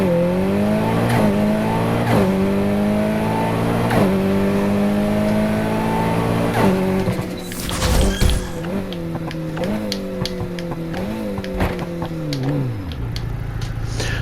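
A race car in Need for Speed Heat accelerates on a quarter-mile run, its engine loudly climbing through repeated gear shifts, with a burst of tire noise near the middle before the revving continues alone.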